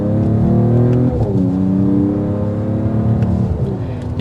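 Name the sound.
sports car exhaust accelerating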